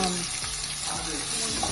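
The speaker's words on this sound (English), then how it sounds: "So with the oil, fry your onions." Onions fry steadily in hot oil for peppered goat meat, a continuous close sizzle with faint stirring scrapes and no talk.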